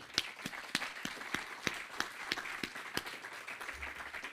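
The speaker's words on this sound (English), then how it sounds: "Let's have a round of applause." Modest applause from a small workshop audience at a connected-mobility plugfest, with individual claps distinctly audible and fairly sparse over a soft bed of clapping, somewhat distant and quiet.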